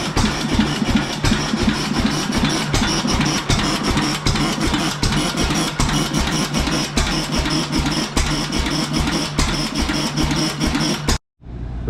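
A restored 7.5 HP Fairbanks Morse stationary engine runs steadily just after starting, giving a close, loud chugging with a regular repeating beat that continues without pause until it stops abruptly near the end.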